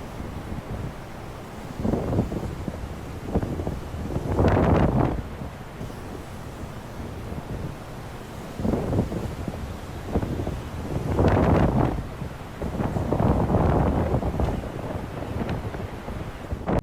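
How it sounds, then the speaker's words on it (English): Strong wind buffets the microphone on a windy island with cobblestone streets, roaring in loud, irregular gusts that rise and fall throughout. "Super windy."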